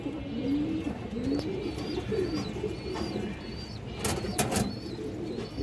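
Pigeons for sale, including a female bird and fancy breeds, coo repeatedly in low throaty phrases close by, with faint chirps and a few sharp clicks or wing sounds near the end, no speech.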